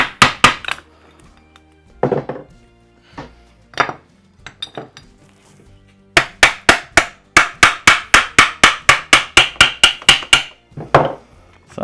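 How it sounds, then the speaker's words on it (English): An electric impact gun rattles in short bursts while a Classic Mini straight-cut gearbox is stripped. Scattered hits come first, then a long run of rapid, evenly spaced hammering blows, loud and close, with metallic clunks of parts between them. "I'm using the electric gun because at least that allows me to get an idea of what's going on."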